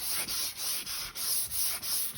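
Close hand sanding of car primer with a homemade flexible T-grip block, a regular run of about eight abrasive scrubbing strokes, each a bright gritty rasp separated by brief dips, steady and unaccompanied by voices.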